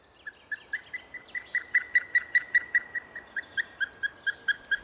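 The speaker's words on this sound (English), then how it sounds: "Their plaintive call is distant." Distant plaintive calling of a large bird of prey with a wingspan over two metres, a steady series of about twenty evenly spaced, clear repeated notes that swell slightly in the middle and carry alone over quiet background.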